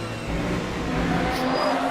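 A Le Mans Ultimate hypercar at Sebring revs hard as the driver overdoes the throttle and spins, a steady loud engine roar with faint tire squeal over about two seconds.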